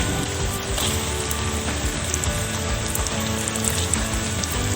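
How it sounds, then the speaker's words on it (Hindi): Garlic and ginger sizzle steadily in oil in a kadhai as chicken goes in, a loud, dense, continuous frying hiss with no pauses. "देखिए लहसुन अदरक से अच्छे से हमारा ये फ्राई हो रहा है। अब मैं इसमें चिकन डालूँगी।"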